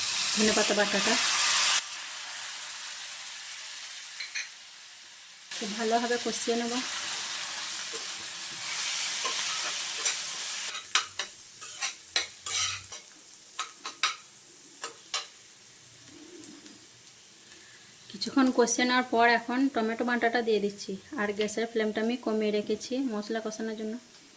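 Green chillies, ginger and garlic sizzling as they are stir-fried with browned onions in a pan, a crackling hiss in stretches broken by scraping strokes, with a voice talking over parts of it.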